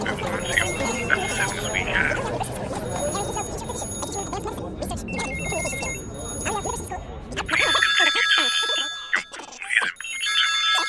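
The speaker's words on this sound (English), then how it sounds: "That scared me. I thought that was my phone ringing." A telephone bell rings in sharp repeated bursts, loud and close, cutting in over and between people talking in a room.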